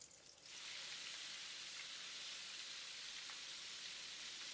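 Battered prawns deep-fry in hot oil in a home kitchen, a loud, steady, close sizzling hiss that rises sharply as the second batch goes in and then holds evenly with no talking.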